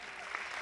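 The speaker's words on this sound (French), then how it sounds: "je pense qu'on peut tous l'applaudir bien fort" Brief, faint burst of audience clapping at a cultural and language festival gala, heard only as a short wash of hands applauding.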